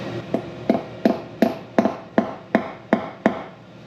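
Nine sharp metallic hammer taps driving a T25 Torx bit into a corroded screw on an F250 Warn hub lockout, in an even, steady rhythm, close up, each ringing briefly before the next strike.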